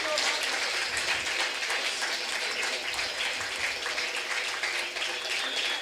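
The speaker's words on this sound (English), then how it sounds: "I think the applause has to come." Sustained clapping from an audience at an evening Ramanavami bhajan celebration in Ghatkopar East, loud and dense for about six seconds, with a steady wash of many hands and no clear breaks.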